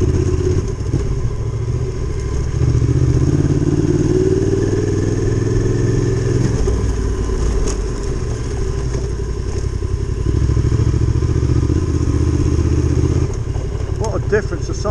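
A big adventure motorcycle rides a trail up onto the Berwyns in sunny Wales, its engine droning loud and close throughout, with rising and falling revs and some gravelly clatter.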